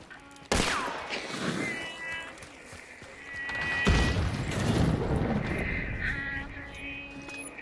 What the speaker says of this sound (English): Just shooting into the air.